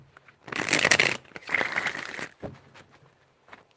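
A deck of tarot cards is shuffled up close in two brisk, crisp riffling bursts, followed by a few quieter taps as the cards settle.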